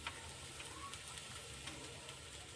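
Whole spices hit onions frying in a pan for a Kolhapuri chicken rassa, giving a steady, dense sizzle and hiss that stays even throughout.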